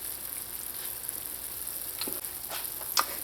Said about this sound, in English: gonna leave this here to simmer for about 2 to 3 minutes